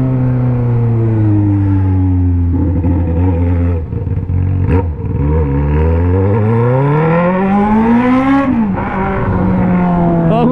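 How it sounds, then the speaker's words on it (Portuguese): A Honda Hornet motorcycle rides through city streets, its engine loud and close, rising and falling in pitch through gear changes and throttle swells with brief dips between. "escutando o barulho da moto ao vivo"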